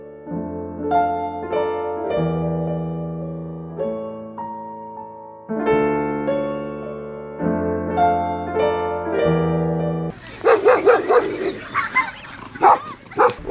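Tonal music plays, then a dog barks several times in quick, loud bursts near the end.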